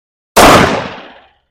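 A single sharp, loud report from a SIG Emperor Scorpion 10 mm pistol with a 5-inch barrel, firing range ammunition. The blast hits hard, then tails off in a reverberant decay lasting about a second, with no voices.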